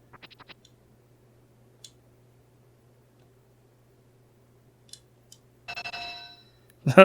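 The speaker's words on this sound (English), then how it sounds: "That's the bell." A bell chimes in the Harvest Moon video game at night, a short bright tonal ring near the end following a few faint ticks and clicks over near silence.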